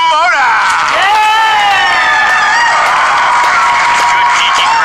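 Loud studio crowd cheering and whooping continuously at a movie trivia Schmoedown competition show, a dense wall of voices with no break.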